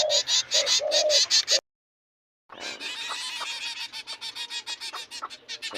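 Finches and other birds in an aviary at feeding time, a dense close chorus of chirps and cooing, cut off by a short gap, then returning busier with rapid tweets, without talking.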